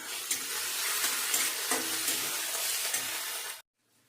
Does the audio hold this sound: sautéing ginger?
yes